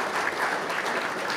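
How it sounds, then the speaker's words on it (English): An audience at an awards ceremony claps steadily in a short, dense burst of applause, with no pauses or voices standing out. "So we got a round of applause for them too."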